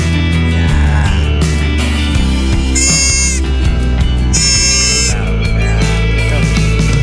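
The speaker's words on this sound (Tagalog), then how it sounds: "Kambing." Goat bleating at a farmyard stop in San Fabian, Pangasinan, two loud drawn-out cries standing out over a busy, loud mix of music-like and background sound.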